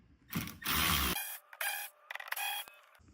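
A socket ratchet fitted with a 7mm socket, an extension and a swivel clicks in four or five quick close-up bursts of rapid ratcheting, separated by short pauses.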